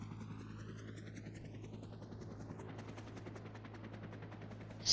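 Rapid, regular bursts of automatic gunfire over a steady helicopter-like drone, moderately loud, ending with a sharp louder shot.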